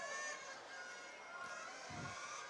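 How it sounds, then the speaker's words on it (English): A dense, steady roar from a packed crowd at a 2008 high school girls' basketball game between Lyman Hall and Sheehan, loud and continuous with overlapping shouts and a brief thump near the end. "A very loud, a very boisterous crowd"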